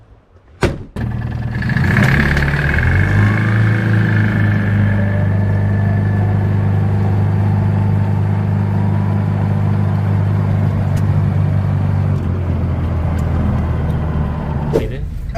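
A Casalini M20 microcar engine starts after a couple of knocks and settles into a steady, loud, droning idle for several seconds before cutting off near the end.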